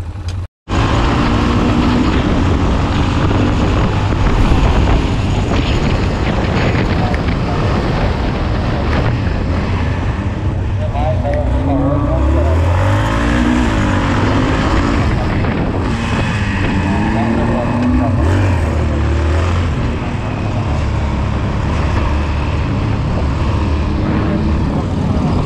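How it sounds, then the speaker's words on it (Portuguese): A motorcycle engine running steadily at a roadside police stop, a continuous loud drone with wind noise, while voices talk over it. "Desliga a moto, desliga a moto."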